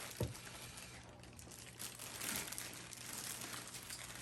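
Tape being pulled off the packaging of a 1 by One record player turntable, heard as a brief close rip followed by soft crinkling and rustling, faint and close, with no talk.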